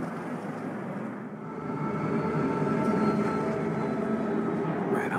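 A train rumbles past in the action game Saints Row, a steady loud rolling roar with rattling wagons that swells after the first second and then holds, close by and with no speech over it.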